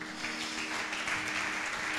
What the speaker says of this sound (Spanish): denle un aplauso si lo cree.